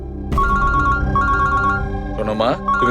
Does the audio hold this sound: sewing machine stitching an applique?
no